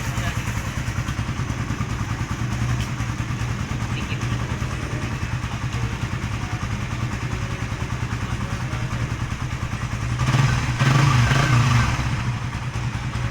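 A Raider FI 150 motorcycle engine runs smoothly at a steady idle close by, with a short rise in revs near the end before it settles back.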